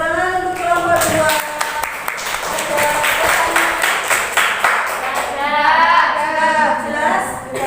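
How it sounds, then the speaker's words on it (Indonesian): A classroom of students claps for a group that has just finished presenting, the applause steady and fairly close, with children's voices and cheering mixed in throughout. "Tepuk tangan untuk kelompok 2."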